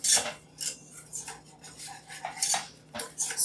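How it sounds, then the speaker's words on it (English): A metal whisk scraping and clinking against a pan while stirring a flour roux for macaroni and cheese, quick repeated close strokes in an uneven rhythm, no voices. "So just for about 1 minute, continue to whisk it."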